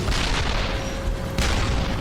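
Booming tank cannon fire in a World War II tank battle, two heavy blasts within about a second and a half over a constant rumbling din.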